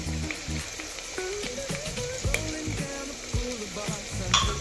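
Ginger garlic paste frying with onion in a pan for chicken pulao, a steady soft sizzle with occasional stirring clatter and scraping throughout.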